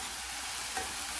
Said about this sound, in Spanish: listo para sofreírse en 2 cucharadas de aceite caliente, pero el fuego debe estar mínimo.